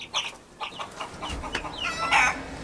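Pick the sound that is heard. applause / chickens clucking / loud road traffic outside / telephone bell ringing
chickens clucking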